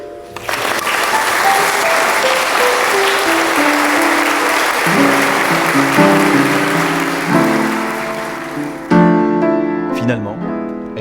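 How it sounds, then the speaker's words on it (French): Wedding guests applaud the newly married couple during the ceremony, a sustained burst of clapping that gradually gives way to music rising underneath, with voices faintly mixed in. "On peut vous applaudir."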